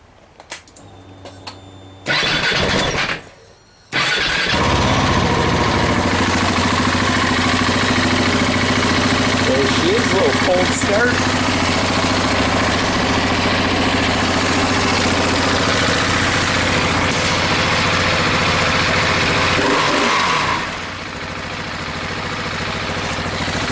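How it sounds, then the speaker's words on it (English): A KTM 701 motorcycle, just repaired after a crash, starts up and idles steadily and fairly loud for most of the stretch, with a brief cut and restart near the beginning and a drop in level toward the end. "The bike still runs okay."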